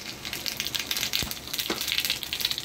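Cumin seeds sizzling in hot oil for a sambar tempering, a soft, steady crackling hiss throughout with a couple of brief pops, alone without talk.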